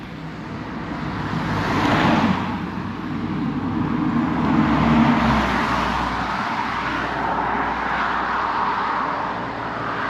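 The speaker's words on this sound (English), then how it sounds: "Where cars are coming past at fucking 60 mile an hour." Cars sweep past at around 60 mph on a main road near Caernarfon in Wales, a steady roar of traffic that swells as each vehicle passes close by, with no talk.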